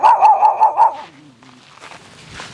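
A dog lets out a quick run of five loud, evenly spaced barks inside the first second, then the yard falls to quieter background noise and soft rustling.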